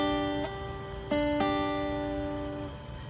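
The last two strings of a guitar are strummed while a chord shape is fretted, ringing out clearly alone with a few repeated strums and sustained, slowly decaying tones.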